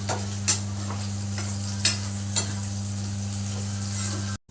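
Dried red chillies frying for a spicy tomato pachadi give a soft, continuous sizzle, with a few sharp stirring clicks near the start over a low steady hum, ending in a brief cut to silence.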